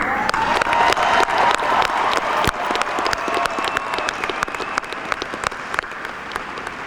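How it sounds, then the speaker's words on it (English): Graduation crowd at a 2017 Wayne Memorial High School ceremony applauding the graduates, a dense sustained wash of many hands clapping with sharp individual claps standing out, steady and loud throughout. "Finally, students, you are the graduates today, and we applaud you."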